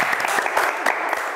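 A brief, dense burst of audience applause for a singer on a television talk show, close and lively with individual claps standing out.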